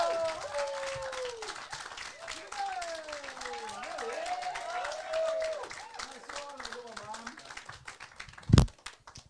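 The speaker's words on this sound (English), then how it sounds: "make loads of noise. We'll be clapping!" Comedy club audience applauding and cheering as a comedian is welcomed on stage, a steady crowd of claps with whoops and a host's voice over it, ending with a sharp loud thump near the close.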